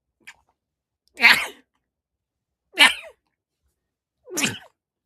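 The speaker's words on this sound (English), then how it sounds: "Those were sneezes." Three sharp sneezes burst out one after another, evenly spaced about a second and a half apart, close and loud against silence.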